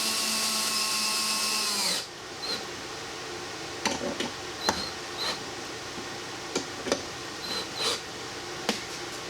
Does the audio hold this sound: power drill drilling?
yes